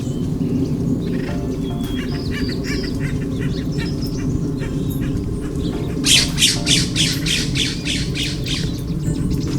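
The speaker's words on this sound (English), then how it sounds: "These are a couple of acorn woodpeckers looking to build a new nest." Acorn woodpeckers calling near a nest site on the Red Rock Canyon trail in Lake Forest, California: loud, close squawking calls, then a rapid rhythmic series of harsh repeated notes midway, with no talking.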